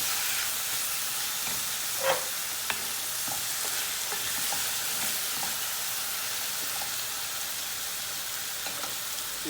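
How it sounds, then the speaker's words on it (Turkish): Chicken, onions, tomatoes and peppers fry in a pan, a steady soft sizzle and hiss broken by occasional scraping stirs and light clinks, close and moderately quiet, with no talking. "Domatesle biberle beraber bir kavurmaya devam edeceğiz."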